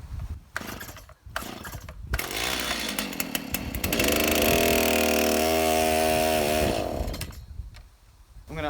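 A Stihl MS290 or MS271 chainsaw is cold-started on choke: a few short pulls and sputters, then the engine catches and runs at a loud, high, steady rev for a few seconds before cutting back to near silence.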